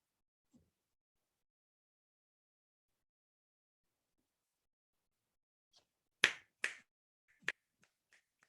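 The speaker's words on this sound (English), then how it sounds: "The inner response time would be if I'm starting to snap my fingers here, right?" Finger snapping in a quiet room: after near silence, a few sharp, close snaps arrive in quick succession, followed by a couple of fainter clicks.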